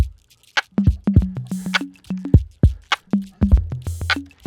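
A hip-hop beat built from sampled water bottle sounds plays alone: punchy, looped hits with short tonal thumps and bright clicky snaps in a steady, quick rhythm, loud and close.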